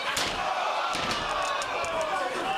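A wrestling crowd roars after a takedown, a loud, steady wash of cheering that fills the space with a few sharp shouts and thuds, and voices talk over it.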